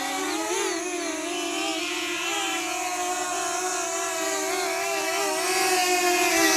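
A DJI Flip drone hovers and flies nearby, its propellers giving a continuous high-pitched whirring buzz with wavering tones, fairly loud and growing slightly louder toward the end, with no one talking.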